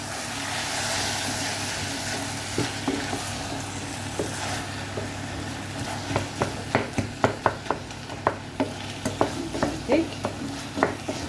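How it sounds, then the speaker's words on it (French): Stuffed aubergine filling with fresh tomato cooking in a pan, a low steady sizzle and simmer under a run of quick clinking stirs and scrapes that grow busier toward the end. "Je le laisse mijoter"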